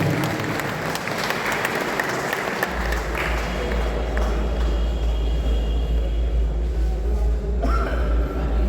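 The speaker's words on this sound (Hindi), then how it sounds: "एक बार उनके सम्मान में आप जोरदार तालियां बजाएं।" Loud, dense applause from a large audience at a Hindi comedy and poetry gathering, sustained throughout with a heavy low rumble underneath.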